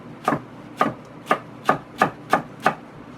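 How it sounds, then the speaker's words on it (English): A knife shreds a head of farmer's-market lettuce with its outer leaves removed, making seven crisp, evenly spaced chopping strokes about half a second apart against a board, close and clear with no talking. "I'm going to use this as my shredded lettuce component."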